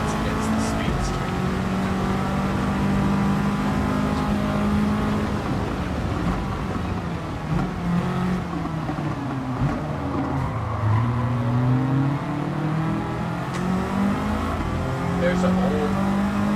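A Speedster sports car races hard, its engine holding a loud continuous drone that rises and falls in pitch through gear changes, with someone talking over it.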